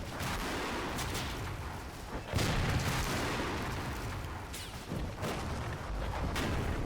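Mortar shells exploding near a soldier in a video game set during a US amphibious invasion of Africa, heard as dull booms and bursts over a constant roar of battle and scattered gunfire.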